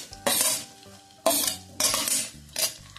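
A utensil stirs sliced onion, capsicum and four green chillies in a hot pan, heard close as several loud scraping, clattering bursts with a faint sizzle between them; no voices.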